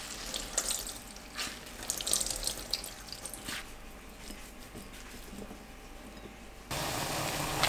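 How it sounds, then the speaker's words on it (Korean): Blanched cucumber rinsed under cold running tap water in a kitchen sink, a steady close splashing stream with scattered drips that swells louder and fuller near the end. "찬물에 헹궈주세요."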